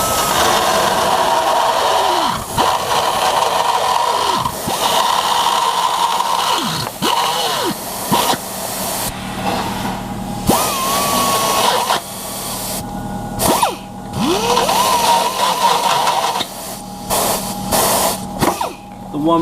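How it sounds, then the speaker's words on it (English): A drill driving a reamer bit cuts through metal tubing for a Miata roll bar installation in a workshop, grinding steadily for about twenty seconds with brief pauses and squeals as the bit catches. No one speaks. "We're going to use the reamer for this still, just because it cuts a lot better."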